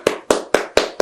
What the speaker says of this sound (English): Join me in clapping.